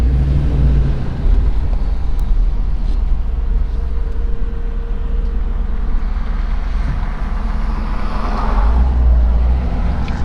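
A 1968 Buick Riviera GS with its 430 V8 idles in a low, even rumble that holds steady throughout, with no voices over it.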